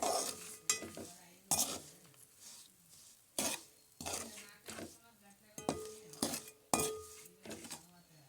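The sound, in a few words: mixing fried cauliflower pieces with salt and spices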